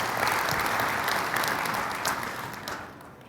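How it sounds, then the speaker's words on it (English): An audience at a corporate technology event applauds steadily, a broad wash of many hands that holds for a few seconds and then tapers off. "Can you get a big round of applause?"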